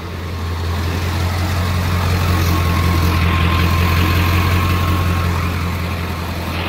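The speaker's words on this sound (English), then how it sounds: "So the truck's really loud because we recently straight piped it." A straight-piped 1996 Ford F-250 with the 7.3L diesel idles loudly up close, a steady deep throbbing drone with a faint whine above it, constant and alone with no speech.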